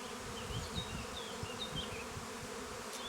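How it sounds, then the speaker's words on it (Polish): Honey bees swarm at the hive while colonies are being merged, a steady dense buzz of many insects close by with no voices. "Te pszczoły sobie teraz to obsiądą."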